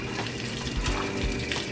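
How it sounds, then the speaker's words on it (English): Tap water runs steadily and loudly into a pot in a home kitchen during cooking, a continuous splashing rush with no pauses. "we're trying to add some water here"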